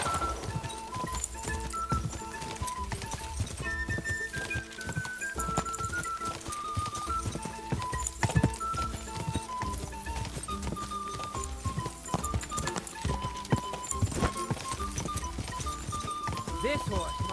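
A horse gallops in the video game Kingdom Come Deliverance II, its rhythmic hoofbeats running continuously under background music and occasional talking voices.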